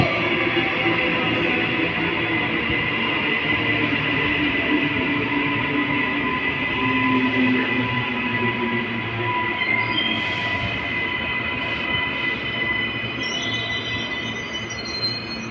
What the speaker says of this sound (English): service approaching platform number 1